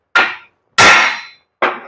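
Three loud, close metallic clangs from a hammer striking a welded broken axle shaft in a workshop, each ringing out briefly and separated by short silences.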